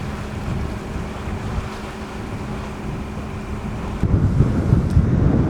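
A sailboat crosses the blustery San José strait in the Sea of Cortez, wind roaring steadily over the hull and waves, growing louder and rougher with splashing surges in the last seconds.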